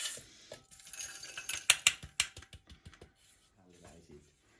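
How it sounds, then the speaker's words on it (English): Coarse leftover pieces of dried herbs being reground in a grinder, with a few seconds of dry clicking, rattling and crunching that gets busier in the middle, then settles into softer rustling. "we put it back in here in the grinder"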